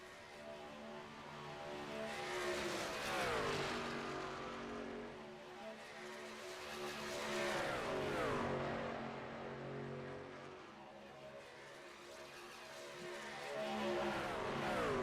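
Race car engines roar around the Atlanta track in the iRacing game, with several cars sweeping past in repeated rising and falling drones that swell and fade at a moderate distance.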